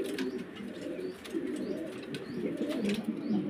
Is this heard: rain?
no